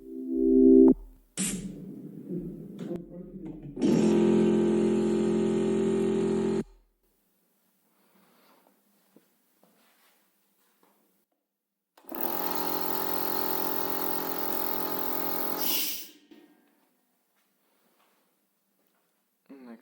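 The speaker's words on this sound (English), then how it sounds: "Turn on the compressor using the off/auto switch." A Metabo air compressor switches on and runs with a steady, loud motor drone that starts and stops in two separate bursts, with quiet gaps between them.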